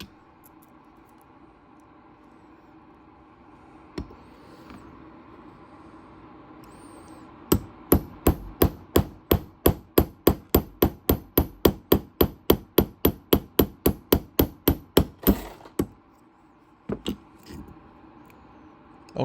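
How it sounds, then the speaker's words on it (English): A hammer strikes a punch to drive a live center out of its lathe housing, a fast even run of about thirty sharp metallic blows, with a few scattered taps before and after. "I think if I use a punch here on the back of the spindle"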